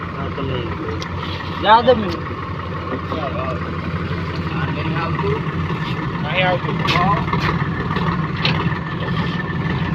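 A new tractor's engine runs with a steady low hum on a trip to spray pesticide, continuing throughout beneath several people talking.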